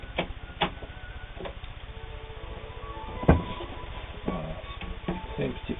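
A Vogue sewing machine works through a decorative feather stitch with a rhythmic mechanical chatter and periodic louder clunks, moderately close and without voices.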